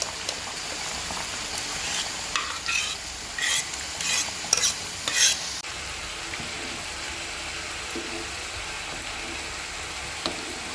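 Dal is stirred into sambar rice in a pan: a bubbling, sizzling base with a burst of scraping, wet stirring strokes in the middle, then steady simmering alone.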